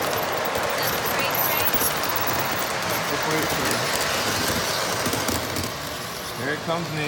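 Rumbling clatter of a model GO train passing along the layout at a model train show, continuous and fairly close amid busy hall chatter and voices.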